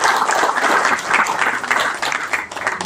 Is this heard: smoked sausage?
no